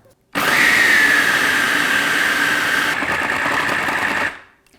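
A food processor motor whirs loudly and steadily for about four seconds, its pitch shifting slightly as it chops peanut butter brownie oat bite ingredients, then spins down.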